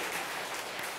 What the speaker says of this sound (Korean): 이 시간 아버지들 향해서 한번 박수로 격려의 박수를 한번 해주셨으면 좋겠습니다